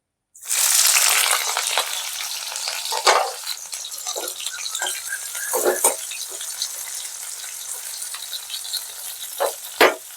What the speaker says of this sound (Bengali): এবার আমি পেঁয়াজটা দিয়ে দিচ্ছি।